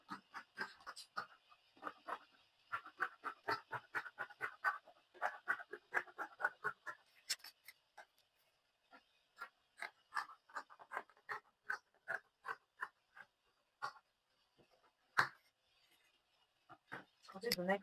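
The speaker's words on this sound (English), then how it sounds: "I'll go ahead to cut this out." Fabric for a lab coat or doctor costume being cut with scissors, producing quiet, rapid, closely repeated snips that come in steady runs with brief pauses between them.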